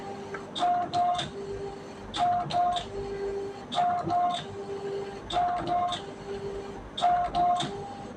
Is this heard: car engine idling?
no